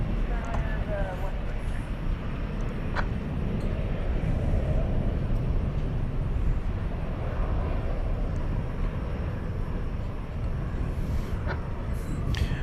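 A jet landing on runway 18 right at DFW Airport at night, a steady, loud, broadband engine roar that fills the whole stretch without a break, with a few faint chirps and clicks scattered over it.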